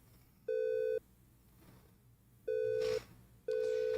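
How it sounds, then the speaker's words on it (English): A telephone tone sounds in three loud, even beeps, each about half a second long with roughly a second and a half of quiet between them, clear over low background noise. "Phone ringing."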